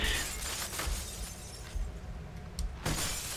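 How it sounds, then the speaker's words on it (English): Breakable floor glass shattering in the video game Halo: Combat Evolved, a swampy level, with a few sharp crashing bursts over a murky game-sound bed, moderately loud and close, with no speech. "Lots of breakable floor glass."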